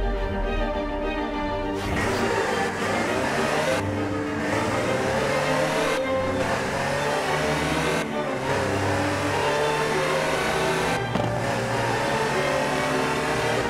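A Land Rover Type 3 engine revs hard in Forza Horizon 4, climbing through repeated loud, close acceleration runs broken by brief drops at each gear change. No voices.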